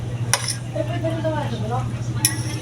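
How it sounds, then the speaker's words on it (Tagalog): Utensil clinking and scraping against a pot while spicy noodles are stirred, with two sharp metallic clinks near the start and end over a steady low hum, and a faint voice murmuring in the middle. "Haluin natin mabuti."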